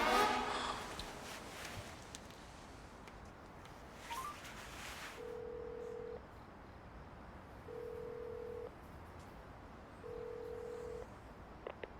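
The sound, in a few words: telephone call being dialed and ringing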